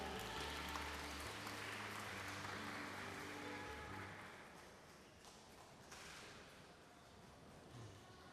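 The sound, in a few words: audience applause at residents' meeting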